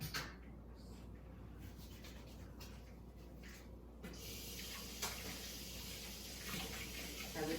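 Water from a kitchen tap runs steadily while hands are washed during gluten-free donut baking, a soft continuous splashing that grows a little louder halfway through, with no talking.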